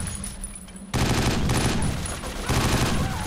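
Sustained rapid gunfire from 50 Cent: Blood on the Sand on Xbox Series X erupts abruptly after a quieter moment, loud and continuous like automatic weapons, intensifying again toward the end.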